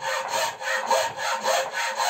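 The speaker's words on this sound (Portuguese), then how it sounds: "nessa posição aqui eu consigo fazer força para frente e guio a serra de lado" A bow saw cutting through wood in steady back-and-forth strokes, each rasping pass swelling and fading in a regular rhythm, close and fairly loud with no voices.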